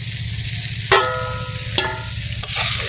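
Fish roe fries in a pan with a little water, cumin and chili, a close, steady sizzle punctuated by a few sharp metallic clinks of utensils against the pan.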